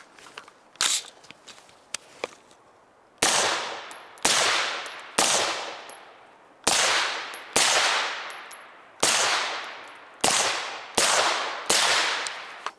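Nine 5.56 rifle rounds (ball, green tip and black tip) fired one by one at a ballistic armor plate, each a sharp loud crack with a decaying ring, spaced about a second apart after a few quieter impacts.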